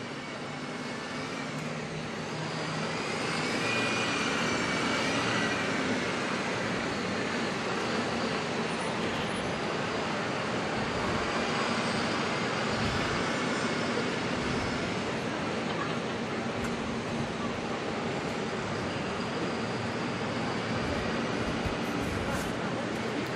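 A Boeing 777's jet engines spool up at night at Auckland Airport, a broad steady roar swelling over the first few seconds, then holding loud and continuous.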